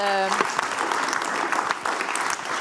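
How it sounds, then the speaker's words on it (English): A crowd at an awards ceremony pitch battle applauds steadily with dense clapping throughout, following a brief sustained tone at the start. "A round of applause to both of them."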